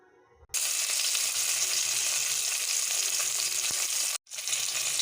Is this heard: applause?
no